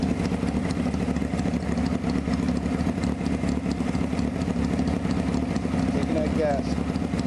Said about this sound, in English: Anyway, it's still idling